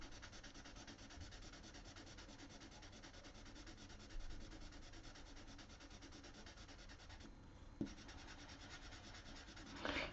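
Soft, continuous rubbing of pencil shading being blended across paper, a close and quiet scratchy friction with a couple of small taps, with no voices.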